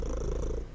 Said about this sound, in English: Oh my god, that purring.